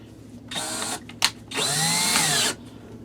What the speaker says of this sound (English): I'm using a 7/32 drill bit.